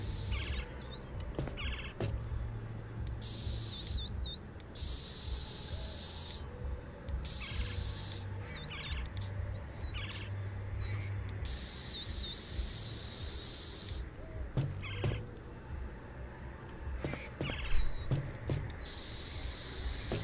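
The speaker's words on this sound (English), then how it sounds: "Alright, how much do I have to spray on one billboard?" An aerosol paint can hisses in repeated long bursts while spray painting a billboard in the video game Postal 4, steady loud sprays separated by short pauses over a low game background.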